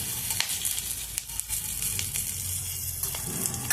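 Green chilies and peanuts sizzle steadily in hot oil in a pan, a continuous close frying crackle with occasional sharper pops, heard alone without voices.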